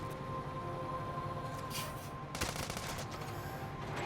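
Cannon fire from the SandLand video game demo: a burst of rapid, gunfire-like blasts and crackles over a steady, loud game soundtrack with a droning tone, with a sharp onset midway.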